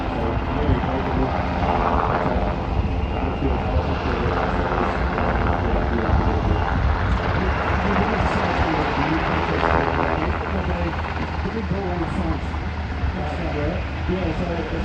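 An MH-60R Seahawk helicopter flies a solo handling display at an air show at night, its loud rotor and engine roar filling the air continuously and steadily, with talk underneath.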